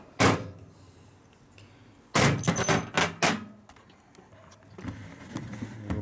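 A drawer on a workshop press used for a vintage Harley-Davidson transmission rebuild opens and closes with several sharp metallic clunks and sliding rattles close by, separated by quiet pauses and followed by softer handling noise.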